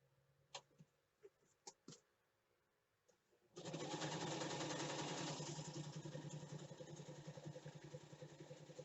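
Sewing machine running a zigzag stitch on a journal made from a window envelope, a few clicks and taps first, then a steady close whirring hum with a rapid mechanical pulse.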